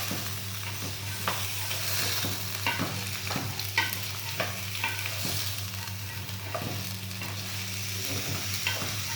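Onions sautéing in a pan for rice and peas, with a steady sizzle and frequent spatula scrapes and taps, close and moderately loud, no talking.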